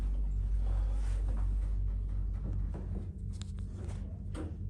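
Lift doors slide shut at the Riverside Park Hotel in Enniscorthy, a low rumbling glide with soft clunks against a deep motor hum.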